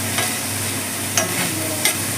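Green chilies and curry leaves sizzle steadily in a pan, a constant frying hiss broken by a few soft stirring scrapes.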